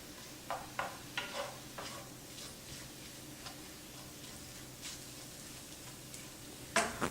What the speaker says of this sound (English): I'll mix my onion around.